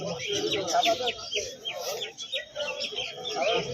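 Pigeons and other birds coo and chirp at a bird market in Birnagar, West Bengal, a busy mix of calls at moderate distance beneath people talking and bargaining nearby.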